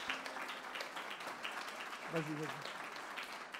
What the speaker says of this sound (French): je voudrais vraiment qu'on les applaudisse